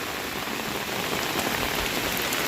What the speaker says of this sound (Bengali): কখনো হালকা বৃষ্টি আবার কখনো থেমে থেমে বৃষ্টি হচ্ছে।